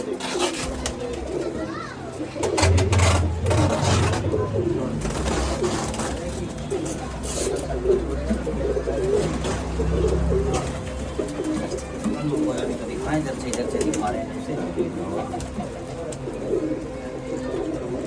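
Pigeons coo repeatedly in low, soft murmurs amid a busy outdoor bustle, with distant voices and children's chatter mixed in.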